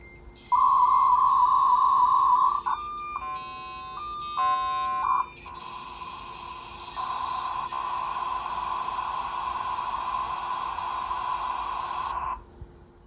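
A dial-up modem on a Packard Bell PC running Windows 95 connects: a loud steady dial tone, a rapid run of touch-tone beeps, then harsh screeching handshake tones and a long hissing carrier that cuts off, with no voices.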